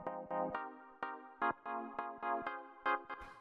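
A soft M1-style synth layer for chill house plays short, evenly spaced chord stabs in a bouncy rhythm, quiet and close, with no voices.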